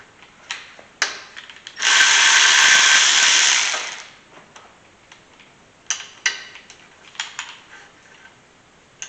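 A power tool spins loose the brake bracket bolts on a 2012 fifth-generation Camaro in one loud, steady burst lasting about two seconds, bracketed by scattered clicks and clanks of tools and parts close by.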